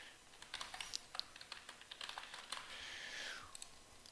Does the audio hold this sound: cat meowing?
no